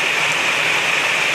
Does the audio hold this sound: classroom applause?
no